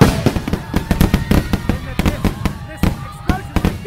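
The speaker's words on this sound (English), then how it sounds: "Listen, explosions." Repeated sharp bangs and pops burst out in an irregular rapid series, loud and echoing, like fireworks or explosions.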